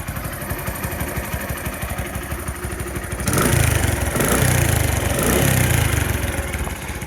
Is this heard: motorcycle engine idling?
yes